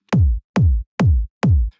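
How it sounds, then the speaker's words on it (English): Four heavy, booming speed garage kick drum hits on every beat, each with a sharp click and a deep pitch-dropping tail, loud and alone. "we're going to start our drums by putting a kick on every beat"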